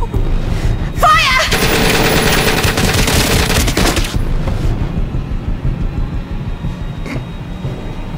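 A loud, sustained burst of rapid machine-gun fire from The Complex video game roars for about three seconds, then fades into a rumbling, echoing tail with faint scattered sounds.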